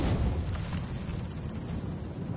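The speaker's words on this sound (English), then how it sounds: "he's throwing a bomb" A bomb blast in The Division erupts as a sustained, heavy, roaring rumble that fills the moment, loud and close, with no voices over it.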